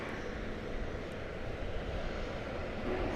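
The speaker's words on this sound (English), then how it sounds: "I can hear the plane." An airplane passes near DFW Airport, its steady broadband engine roar holding loud and even throughout without any talk over it.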